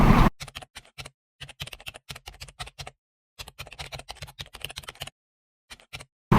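Fingers type on a computer keyboard, entering Python code, in quick irregular bursts of clicky keystrokes broken by short silent pauses, close and crisp with no talk.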